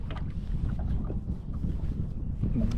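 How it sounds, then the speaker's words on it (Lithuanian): Wind gusts over a lake buffet the microphone on a small fishing boat out for perch, a steady low rumble with faint lapping water and no talk. "Vėjas pakilo"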